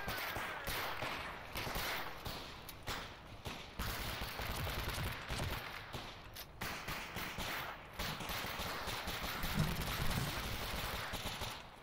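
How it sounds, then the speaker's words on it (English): Gunfire in the shooter game STALKER, set at Agroprom: a string of quiet, rapid shots and bursts that runs through the whole stretch, faint and somewhat distant. "Yo, I'm shooting right at him, though."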